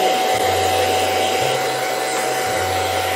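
An old retro hair dryer blows steadily and loudly while drying hair, its airflow hiss joined by a constant motor whine, with the low hum pulsing a few times as the dryer is moved.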